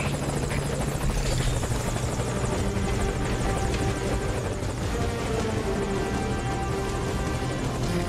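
A helicopter in Metal Gear Solid Ground Zeroes thunders close by at a landing zone, its rotor chop and engine whine a loud, constant, dense roar throughout.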